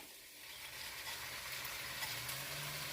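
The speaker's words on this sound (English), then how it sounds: "Now that my bell peppers and my celery have been sauteing really good with my onions" Bell peppers, celery, onions and a medium tomato sautéing in a pan for meatball soup, giving a steady, soft sizzle with light stirring scrapes, continuous and fairly quiet with no talking.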